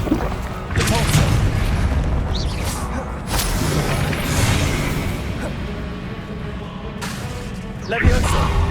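A fire spell blast in Hogwarts Legacy, heard as booming whooshes and thuds that recur through the clip, with a sharp hit near the end. A voice speaks over the effects.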